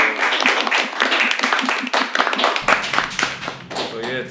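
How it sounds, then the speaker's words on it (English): Audience clapping at the close of a talk show episode, a lively burst of many hands with distinct individual claps, loud and close, continuing steadily for several seconds. "Round of applause for the"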